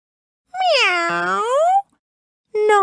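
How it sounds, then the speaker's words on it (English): A long, drawn-out cat meow, clear and close, then a pause and the start of another meow. "Not I, purred the lazy cat."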